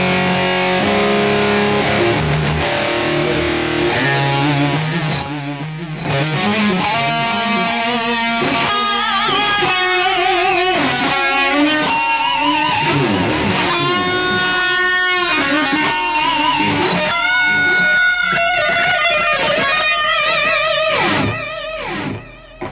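Heavily distorted electric guitar playing chords and sustained lead notes, washed in long 1.7-second reverb tails, loud and continuous throughout.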